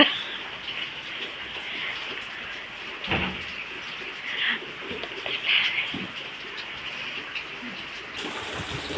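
Steady monsoon rain falls without letup in a continuous wash, with a few louder spatters and drips standing out now and then; no voices are heard.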